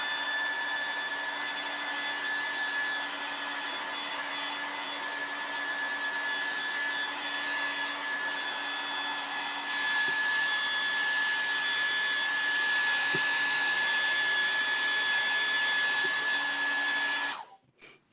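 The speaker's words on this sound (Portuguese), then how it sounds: "eu fiz os 3 lados e vou secar novamente." Hair dryer blowing steadily on a freshly painted MDF piece being prepared for decoupage, a loud, continuous close whir lasting about seventeen seconds before cutting off.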